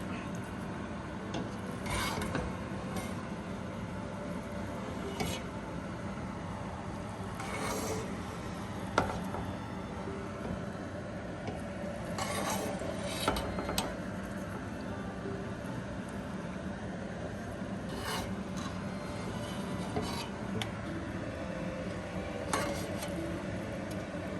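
Chicken yakhni pulao being gently stirred in a pot, with steady soft scraping and rubbing of a utensil through rice and occasional light clinks against the pot side, spread out over a continuous low background.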